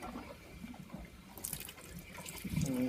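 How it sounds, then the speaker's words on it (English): Cold tap water runs steadily through a laboratory condenser during preparation of benzoic acid, a faint, continuous trickling flow with soft gurgles and a slight splash near the end. "we want to get the cold water running through the condenser"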